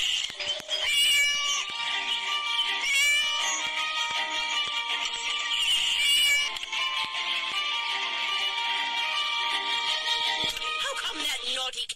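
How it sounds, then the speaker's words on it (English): A cat meowing repeatedly in long, drawn-out wailing calls, loud and close, with a few brief pauses between cries. "naughty cat again."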